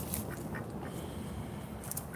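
Ducks quacking in short, scattered calls over steady outdoor background noise, moderately distant and fairly faint, with no talking.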